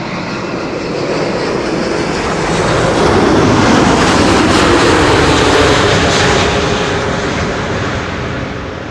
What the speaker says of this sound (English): This is KLM flight 646 arriving from New York JFK 777-200 6 hours and 39 minutes on the way